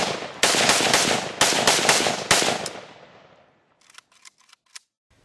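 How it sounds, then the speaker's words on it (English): Several loud rifle shots from a Century Polish AKMS Sporter, an AK variant, fired in a quick uneven string, followed by fainter clicks and metallic handling sounds after the firing stops. "Just got through firing another Century Polish gun. This one is an AKMS Sporter"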